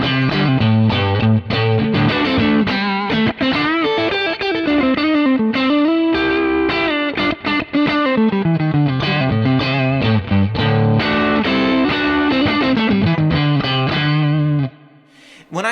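Thick, heavily driven electric guitar through a Kemper profile of a blackface Vibe Reverb amp with a 15-inch JBL speaker, a continuous melodic line with full chords and sustained notes, loud and up front, cutting off abruptly near the end.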